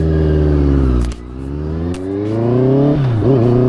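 A Honda CBR650R sport motorcycle ridden along a road, its engine loud and close, holding a steady hum, dipping briefly as the rider eases off, then revving back up with a clear rising pitch.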